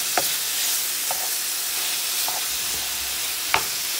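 Chicken simmering in a pot for homemade chicken noodle soup, a steady bubbling hiss throughout with a few faint clinks and taps, fairly loud and even, no voices.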